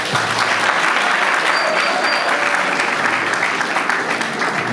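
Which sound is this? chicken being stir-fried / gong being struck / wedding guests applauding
wedding guests applauding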